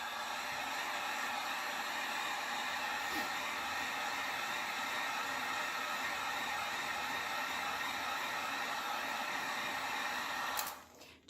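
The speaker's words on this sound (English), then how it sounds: "I'm going to go ahead and just hit it with the heat gun" A heat gun blows a steady, loud broadband rush on a tumbler to lift off a sticker, holding constant for about ten seconds before cutting off abruptly.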